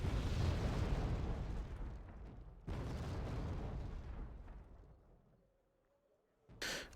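Artillery strike explosions in the video game Wargame Red Dragon: two loud blasts, each followed by a long roaring rumble that fades out, then a short sharp burst at the end.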